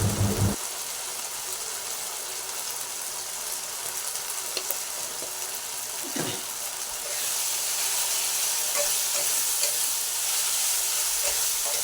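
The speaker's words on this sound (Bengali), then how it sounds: "সব মশলা একবারে দিয়ে দেবো দিয়ে তারপর মশলাটা কষাবো" Ground spices such as chilli and cumin powder fry in a pan for ghugni, a continuous hiss and sizzle that grows fuller partway through, with a few faint stirring scrapes and no speech.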